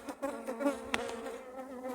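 Honeybees buzz close and steadily at an open hive, a dense droning hum with a few sharper passes, no voices.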